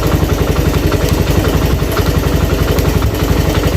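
A Suzuki Thunder motorcycle engine idles loud and close, running slightly rough with a steady rapid pulsing thump and no other sounds.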